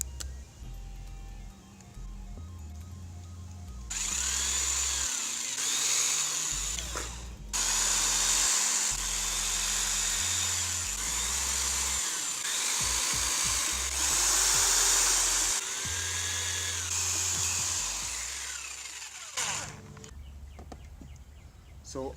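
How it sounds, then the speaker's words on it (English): Handheld power drill boring holes in a workshop, with several bursts of whining motor and bit grinding through material separated by short pauses. "We're gonna get started drilling some holes here."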